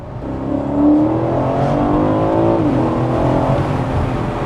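A sports car with an AMG engine roars loudly as it accelerates, pitch climbing through the gears with a brief dip at a shift.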